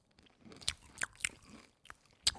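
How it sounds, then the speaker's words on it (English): Sour gummy candy clusters being bitten and chewed close up, with several sharp crunches spaced unevenly over soft chewing, quiet between bites. "It's a candy ASMR with gummy clusters."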